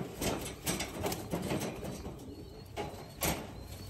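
Racing pigeons in a loft, soft cooing mixed with bursts of wing flapping and rustling at close range, with no talking.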